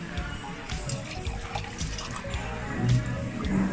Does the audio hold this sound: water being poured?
yes